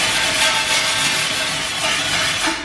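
Rubi sanding sponge scrubbing the edge of a large tile, a steady broadband rasp that holds close and even throughout with no pauses.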